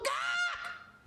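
A person's voice imitates a chicken with a single loud, honking squawk, nasal and goose-like, cut off after about a second.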